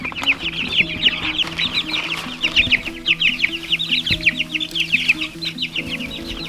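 Backyard chickens clucking steadily and close by in the snow near a chicken tractor, a busy overlapping chatter of soft calls with a low steady hum underneath and no talking.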